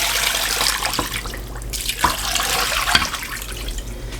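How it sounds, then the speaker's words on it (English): Continuous rushing water pours from a tap into a pot holding chicken, a steady splashing stream with a few small knocks. "we are going to cover the chicken with 2 inches of water"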